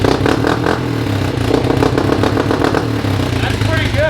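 Kawasaki Brute Force ATV with an aftermarket exhaust revving, a loud close engine roar with quick throttle blips and some mechanical clatter throughout.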